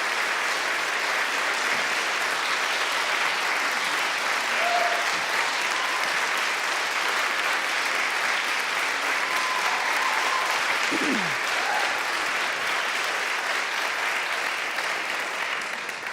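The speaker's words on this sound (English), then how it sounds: "I hope you will applaud as they do." A large crowd at a church conference's closing session claps in sustained, even applause for a long stretch, with a few faint voices mixed into the dense clapping.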